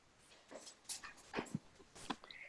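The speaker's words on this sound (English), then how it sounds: "He's trying to hold our dog back." A pet dog being held back whimpers and yips faintly several times, thin, high whines rising and falling against a quiet room background.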